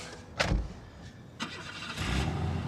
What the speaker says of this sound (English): Push of a button, the symphony of a brand new Mustang's engine.